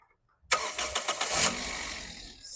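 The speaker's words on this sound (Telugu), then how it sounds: "సింగిల్ సెల్ఫ్ బండి స్టార్ట్ అవుతుంది సార్. ఎటువంటి స్టార్టింగ్ ట్రబుల్ అయితే లేదు." A 2011 Toyota Etios V petrol car starts on the first crank after near silence, with a short starter whir that catches into a loud, close engine that settles toward idle.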